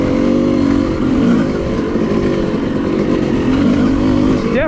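A four-stroke 250 dirt bike engine drones loudly and continuously on a trail, its revs wavering up and down as it rides close by.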